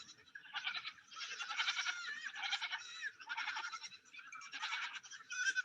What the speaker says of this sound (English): These are little dwarf goats.